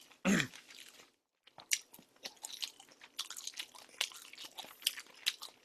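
Vienna sausages are eaten close to the mic in a Korean mukbang, with a sharp first bite followed by soft, steady chewing and small crunching sounds at low volume.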